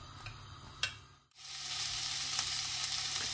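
Onion fries on a medium flame for onion chutney, with a close, steady sizzle that swells after a brief stir and a couple of utensil taps. No one speaks.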